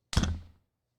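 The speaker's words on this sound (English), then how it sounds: "Hit the hell out of the mic stand." A single heavy thud from a microphone stand being struck hard, close and loud, with a short boomy low decay that dies out within half a second, followed by silence.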